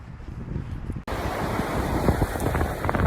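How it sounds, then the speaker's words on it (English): Small waves wash up on Wasaka Beach on a quiet morning, a steady broadband surf wash with wind noise buffeting the microphone, loud and continuous after a brief quieter start. "You see these little waves that have washed up on the beach?"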